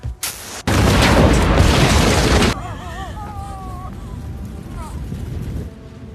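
A loud suicide-bomb explosion from a samurai film roars in at once, sustained and broadband for about two seconds, then gives way to a quieter rumbling aftermath with faint tonal cries.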